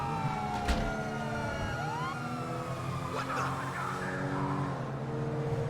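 A state police car siren in GTA Online wails in rising and falling sweeps, loud and close, with vehicle noise underneath and no speech.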